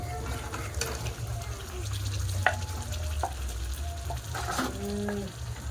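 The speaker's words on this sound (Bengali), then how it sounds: "এবার দিয়ে দেবো ভেজে রাখা আলু" Fried potatoes tipped into a frying masala with cashews and separated oil for Kashmiri aloo dum, a moderate sizzle with scraping, clattering stirs and a few knocks, plus a low background hum and faint voices.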